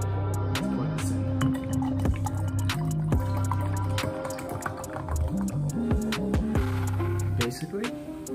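Mountain Dew Baja Blast poured into a wine glass, a continuous close liquid stream with fizzing, dripping and splashing that shifts in pitch as the glass fills.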